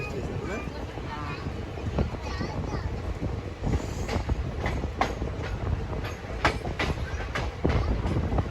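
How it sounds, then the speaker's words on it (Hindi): Begumpura Express 12237 running at a good speed through a station on the Varanasi to Ambala Cantt route, a steady loud rumble of wheels on rails with wind buffeting and sharp repeated clacks over joints. "आलमनगर स्टेशन को ट्रेन अच्छी खासी स्पीड में स्किप कर रही है।"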